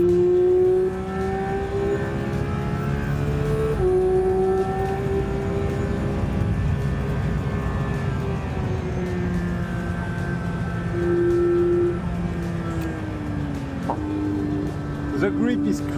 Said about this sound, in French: le son du Flat 6, la montée en puissance de l'atmosphérique à 9000 tours, c'est grandiose